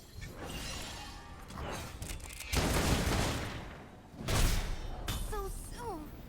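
Miss Fortune's guns in the Path of Champions card game fire in bursts of heavy blasts and shattering impacts, two loud volleys standing out among game effects, with brief tonal chimes near the end.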